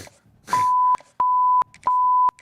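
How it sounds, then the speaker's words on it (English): Electronic beeps from a College Football 26 stream setup, three long steady tones in an even rhythm, each about half a second, loud and close, with no talk over them. "I can't deal with the beep noise."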